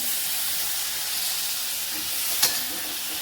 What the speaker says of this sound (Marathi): आता आपण हे भाज्या धुतलेल्या ह्या शेच्यात टाकून घ्यायचे आहे